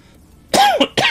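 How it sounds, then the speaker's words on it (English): A person coughs and clears their throat at close range into a microphone, with two sharp bursts in quick succession after a near-silent start. "I hope the coughing's not crazy loud on the mic."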